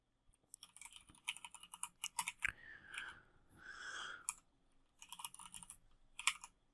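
Someone types a login ID on a computer keyboard, with quick bursts of close, crisp key clicks separated by short pauses and a brief soft rubbing sound in the middle, and no one talking.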